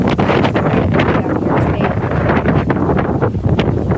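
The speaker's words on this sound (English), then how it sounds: "It's windy." Strong wind buffets the microphone in a constant roaring rumble with gusty swells, and no other sound stands out.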